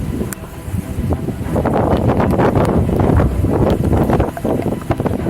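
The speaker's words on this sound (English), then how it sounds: "It is getting really windy and it's been raining all day." Strong typhoon wind roars and buffets the microphone in heavy gusts, rising and falling continuously with a rough, rumbling texture, after a full day of rain.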